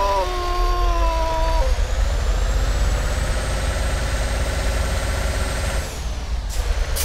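A Volvo truck engine in the Euro Truck driving game drones loudly and steadily, its whine climbing in pitch as it revs, with a brief air-brake hiss near the start and a rumbling low end throughout.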